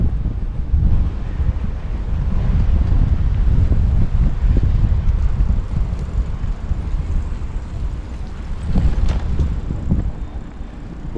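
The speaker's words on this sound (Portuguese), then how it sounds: "O vento aí, o tempo tá querendo virar aqui no Rio, então o vento talvez vai atrapalhar." Wind buffeting a microphone outdoors in downtown Rio de Janeiro as the weather turns, a loud rough low rumble that surges and eases over the whole stretch, with faint city noise beneath.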